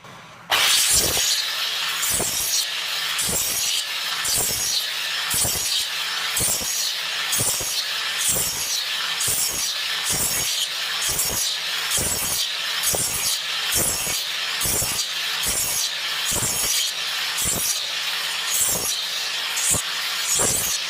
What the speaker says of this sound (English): just ploughing grooves through the piece of 2x4, moving the wood across inch by inch